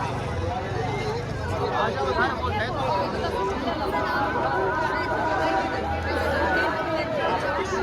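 Large crowd of pilgrims at the Sangam river confluence during the Mahakumbh, a steady murmur of many voices and footsteps filling the space, continuous and moderately loud throughout.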